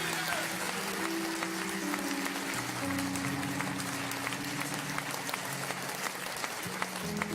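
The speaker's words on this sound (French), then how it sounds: "Bravo, on applaudit." Audience applause at a televised tribute concert, greeting a singer, steady clapping throughout with tonal music or hum lines running underneath.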